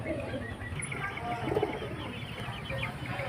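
Pigeons at a bird market in Beldanga coo softly amid a busy, steady background hum, with a few louder calls rising briefly near the middle.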